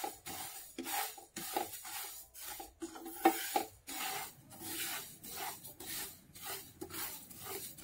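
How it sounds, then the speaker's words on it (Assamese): Sesame seeds dry-roasting on a hot tawa for Assamese til pitha, stirred in a steady rhythm of close, gritty scraping and rustling strokes, with short pauses between them and no talking. "তিলখিনি 2 মিনিটৰ বাবে মই ভাজি লৈ"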